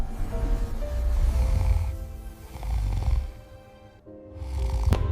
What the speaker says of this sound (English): Jack waited for the snores.